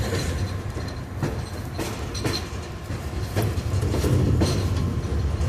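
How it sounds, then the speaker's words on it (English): A CSX freight train rolls past nearby, a continuous heavy rumble with rhythmic clickety-clack of wheels over rail joints, steady and loud throughout with no voices. "I think I saw a CSX train actually."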